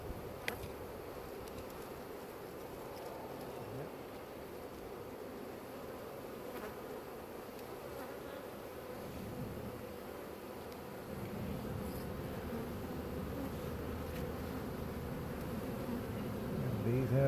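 A swarm of honey bees gives off a steady, dense buzz that holds at a low, even level throughout and swells slightly toward the end, with no voices over it.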